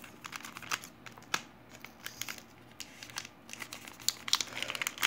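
Trading card packs of a 2014-15 Ntreev Duael Super Star Blue Edition KBO baseball box being opened, soft close-up crinkling and crackling of foil wrappers with sharp tearing snaps scattered throughout.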